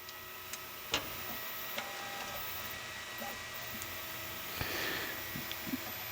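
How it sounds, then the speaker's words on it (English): A 3D printer mid-print, its load sensors repeatedly disturbed, gives a steady low whirring hum with scattered soft ticks and clicks from the moving head, plus one brief louder burst, heard alone at close range. "Printer is very unhappy with me right now because I keep messing with the load sensors."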